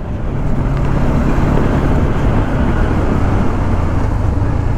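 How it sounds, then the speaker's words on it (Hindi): Steady loud engine rumble of a modified BMW 310R motorcycle with wind buffeting the microphone, a continuous droning roar with no pauses and no talking. "सेक्सी सेक्सी आवाज करती है भाई ये बाइक"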